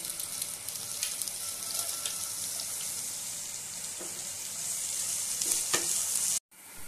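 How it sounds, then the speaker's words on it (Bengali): Carrots and beans fry in a pan as a steady, moderately quiet sizzle with occasional light stirring clicks, ending in an abrupt cut, with no one speaking. "এবার গাজর আর বিনসটা দিয়ে দেবো, খুব ভালো করে ভেজে নেব।"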